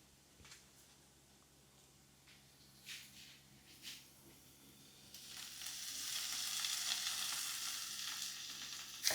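Tomatoes frying with spice masala in a pan, quiet scraping stirs and a few clinks at first, then a hissing sizzle that swells and holds, close by and free of talk.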